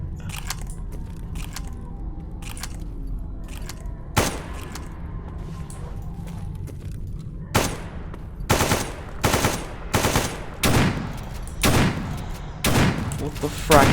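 Gunfire in the video game Escape From Pripyat: loud broadband shots, a single crack near four seconds, then a rapid cluster of bursts from about seven and a half seconds on, over a steady low background rumble.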